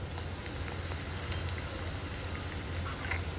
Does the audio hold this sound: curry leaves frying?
yes